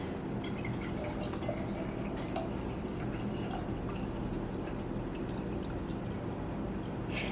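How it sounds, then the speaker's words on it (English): Whole milk pours steadily into glass canning jars, a continuous close liquid stream with faint dripping and small splashes, no talking over it. "Let's keep pouring."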